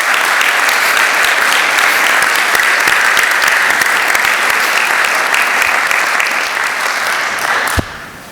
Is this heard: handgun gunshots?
no